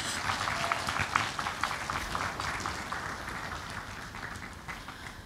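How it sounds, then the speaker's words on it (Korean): A congregation at a church service claps together, a thick continuous patter of many hands that slowly fades toward the end. "박수 한번 쳐주세요."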